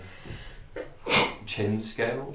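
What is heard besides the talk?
sneeze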